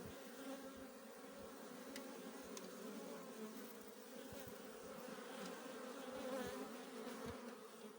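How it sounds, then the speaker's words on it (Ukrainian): Many honey bees hum at a hive in February in Ukraine, a dense, steady drone, quiet and even throughout, with no voices. "практично в кожному вулику бджоли носять обніжку"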